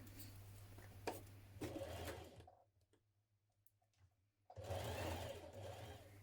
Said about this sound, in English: we're now going to sew through all 3 layers like this.